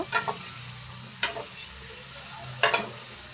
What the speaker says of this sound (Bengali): লঙ্কা হয়ে গেছে অলরেডি আমাদের ভাজা